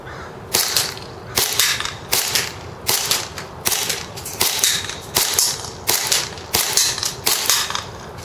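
A KWA MKII 1911 propane-powered airsoft pistol fired about ten times in an even, steady rhythm, each shot a loud, sharp crack with a brief mechanical clack of the slide, close and without talking.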